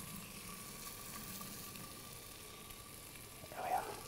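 A fillet searing in a pan gives off a faint, steady sizzle throughout, with a slightly louder burst of spitting near the end.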